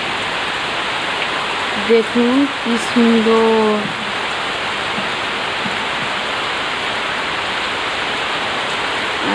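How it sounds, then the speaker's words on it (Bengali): Heavy monsoon rain pours down steadily as a dense, even wash of noise, with a person speaking briefly over it. "এই দেখুন বৃষ্টি হচ্ছে কেমন"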